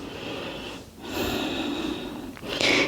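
Slow resting breath during a morning yoga routine, taken with the forehead on the mat: a close, audible inhale and exhale with a slight snort-like nasal edge, no talk.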